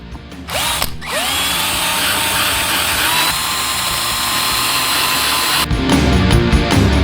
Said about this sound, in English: To fit the wheels I had to drill extra holes using this drilling guide.